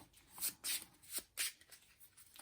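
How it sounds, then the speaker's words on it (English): A deck of game cards is shuffled at the table in a few soft, close riffles and slides. The bursts come in short, uneven pulses and fade to quiet, with no voices. "Can't even shuffle with my eyes open."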